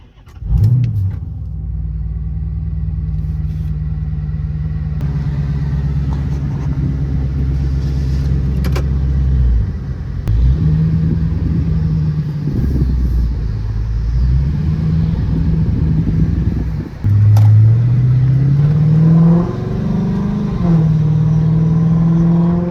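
A Chrysler 300C SRT engine idles with a deep rumble, then revs up and down several times, loud and close, the pitch rising and falling with each throttle blip.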